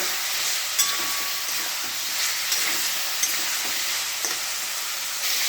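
Potatoes fry with spice paste, tomato, salt and turmeric in a pan, giving a steady, loud sizzle and hiss with occasional soft scrapes from stirring.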